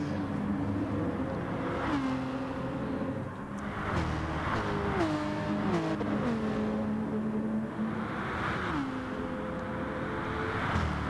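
GT race car engines in a Monza racing game, several cars revving and shifting in repeated rising and falling pitch sweeps, loud and continuous throughout with no talking.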